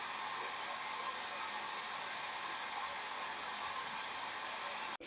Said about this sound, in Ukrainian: зараз я буду розігрівати це все феном